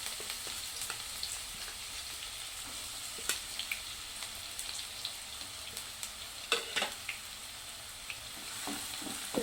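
Finely chopped onion added to hot oil in a pan, sizzling in a steady, quiet frying hiss with scattered crackles and pops, close and alone without any talking.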